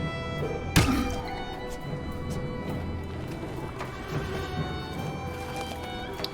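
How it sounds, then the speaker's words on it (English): A battering ram attack lands on an enemy in The Banner Saga, a single heavy thunk near the start over a busy bed of game music and ambient noise. "Battering ram this guy out of here."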